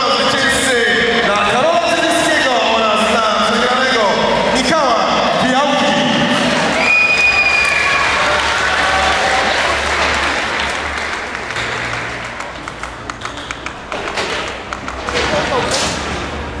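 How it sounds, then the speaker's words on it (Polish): Applause and cheering from the audience at a fighting gala, Arena Berserkerów 4, swelling after the winner is announced, with a thud partway through. An announcer talks over the crowd noise before it fades into a busy hall murmur. "Jeszcze raz brawa"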